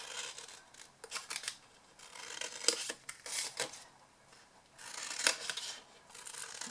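Scissors cutting paper squares into wedges at close range, a series of crisp snipping and slicing strokes in irregular bursts with short pauses between cuts, no talking.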